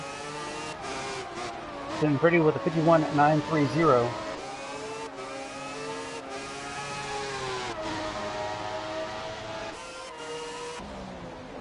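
Formula Classic race cars in the FlatOut Racing video game on a short Silverstone or Bahrain track, with engines whining and shifting pitch as a car laps. A commentator talks over the engine noise throughout.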